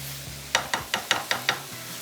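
Minced meat with chopped onion for paratha kheema is stirred in a pan: six quick, evenly spaced spatula scrapes and taps ring out close by over a low steady hum.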